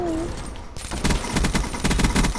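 Rapid bursts of gunfire from a fast-firing gun crackle close and loud in an online video game, clipped shots repeating in quick runs after a short tone.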